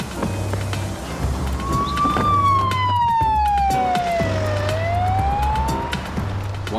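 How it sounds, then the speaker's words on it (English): Police siren wailing loudly with a rising and falling tone over steady road noise, sweeping down and back up across several seconds. "One siren and a policeman later"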